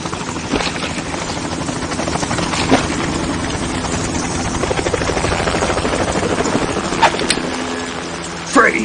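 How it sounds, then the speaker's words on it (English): Loud, continuous helicopter rotor thumping with a steady engine whine, heard up close in Metal Gear Solid 2: Sons of Liberty, punctuated by a few sharp clanks. "You will be on the helicopter out of here now."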